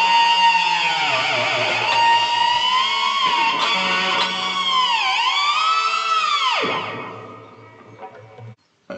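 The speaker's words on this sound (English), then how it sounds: "use a pinched harmonic with your thumb, with the pick, and then use your left hand to use the whammy bar" Electric guitar played with a pinched harmonic from the pick and thumb, then dived and bent with the whammy bar, giving a loud sustained wailing tone that swoops down, rises and drops again before cutting off near the end.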